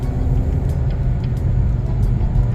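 A car with an automatic gearbox that fails to shift drones steadily while accelerating, a constant low engine rumble heard from inside the cabin with no change in pitch, moderately loud with faint rattles on top.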